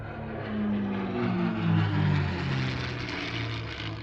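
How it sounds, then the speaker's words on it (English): Two P-51 Mustang propeller fighters pass over an airshow, a steady droning engine roar with wavering low harmonics that swells slightly mid-pass and holds loud throughout. "Two P-51 Mustangs."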